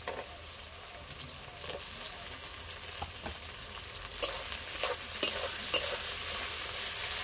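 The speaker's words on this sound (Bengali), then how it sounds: "পেঁয়াজ কুচি দিয়ে দেবো, টমেটো কুচি দিয়ে দেবো," Chopped onion and tomato fry with country chicken in a pan, a steady close sizzle broken by scraping stirs that grow busier and louder toward the end.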